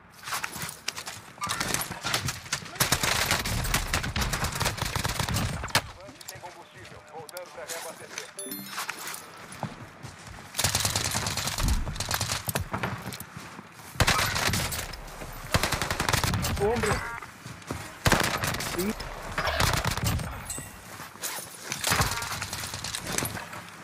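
Video game gunfire cracks out in dense, repeated bursts and rapid volleys, loud and close, with players talking over much of the action.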